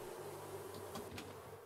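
Bees buzz in the survival game Raft, a faint, steady droning hum with wavering pitch under soft background noise, no talk during the brief moment.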